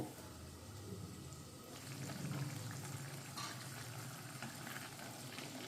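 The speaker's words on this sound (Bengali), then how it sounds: "লো টু মিডিয়াম ফ্লেমে রেখে মশলাটাকে কষিয়ে নেব" Spice paste frying in a pan over a low-medium gas flame for aloo dum, a steady soft crackling hiss that thickens slightly partway through and runs without speech.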